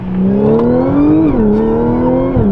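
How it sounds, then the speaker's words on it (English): A modified 500 hp 2015 Audi S4 with a bolt-on supercharger accelerates hard, and its loud, close supercharger whine climbs in pitch, dips briefly, then climbs again as the engine revs. "The supercharger, you can hear that so well."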